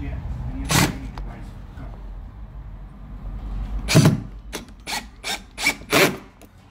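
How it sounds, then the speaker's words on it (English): Several short mechanical grinding bursts, the last few in quick succession, as a screw is driven into wood by a close-up drill while fitting a stair carpet runner, over a low background hum. "now putting the top screw in"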